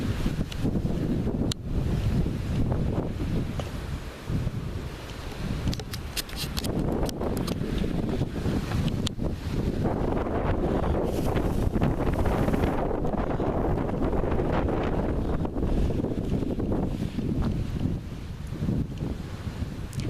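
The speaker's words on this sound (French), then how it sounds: "Tellement qu'il y a du vent, j'en bouge" Strong wind in Charente, France buffets the microphone continuously, a loud roaring rush with gusty swells, with no voices heard.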